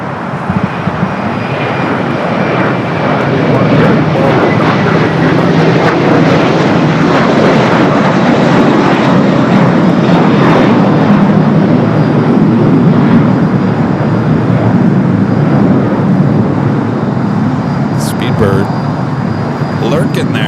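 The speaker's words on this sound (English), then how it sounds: "Copa Airlines 737 MAX 9 pushing back." A Copa Airlines Boeing 737 MAX 9 jet pushing back at LAX, with a steady, loud engine and airport rumble that holds without a break for the whole stretch.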